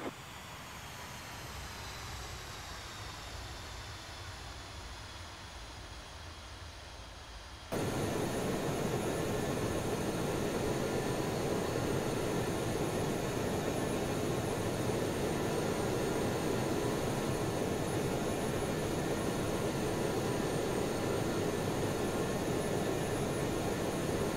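Avro RJ70 jet in a flight simulator during a touch and go: a steady engine roar that jumps abruptly louder about a third of the way through, then holds a dense, even whine and rumble with no voices.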